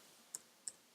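Two crisp, quiet keyboard keystrokes sound about a third of a second apart as numbers are typed, isolated clicks against near silence.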